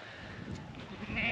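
Goats raised by a Wayuu village community in Sirramana bleat faintly amid a noisy outdoor background, with a brief, rising call near the end of the short stretch.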